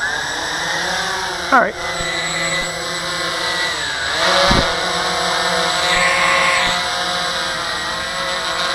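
Walkera QR-X350 GPS quadcopter drone taking off from a small box, its motors giving a close, steady buzzing whine that rises and shifts in pitch as the throttle changes, with someone talking briefly over it.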